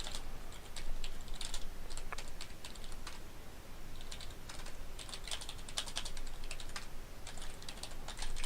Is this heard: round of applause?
no